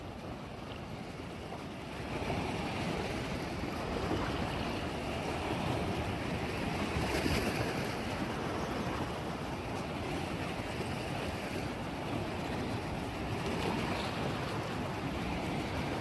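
Waves wash steadily onto a sandy beach at sunrise in Barbados, a constant broad rushing surf mixed with wind buffeting the microphone, with no voices.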